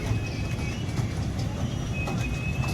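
A small amusement train rumbles along steadily at the Ahmedabad Shopping Festival, with low, continuous rolling noise and faint clattering, surrounded by a busy outdoor crowd murmur.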